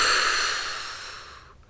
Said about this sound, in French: On retient légèrement notre respiration et on souffle